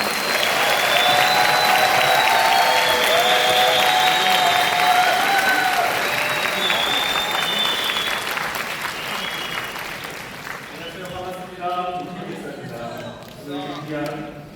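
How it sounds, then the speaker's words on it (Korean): Big, sustained applause from a youth camp audience in a Busan church hall greets a pastor's entrance, loud and steady before thinning out, with a few voices and musical tones rising near the end. "이태희 목사님, 우리 나오실 때 큰 박수 부탁드리겠습니다"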